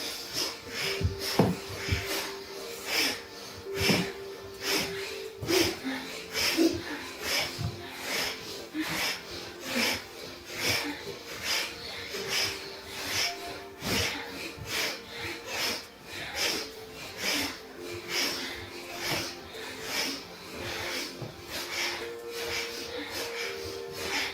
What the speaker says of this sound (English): Inhale, exhale. Inhale, exhale, and pass it up.